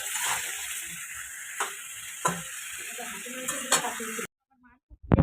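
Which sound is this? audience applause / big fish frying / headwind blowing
big fish frying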